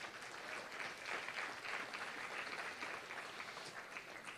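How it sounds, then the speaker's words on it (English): Applause from an audience at a Law Day event, steady clapping that swells slightly and carries on for about four seconds, fairly faint and distant. "let's give the steering committee a round of applause"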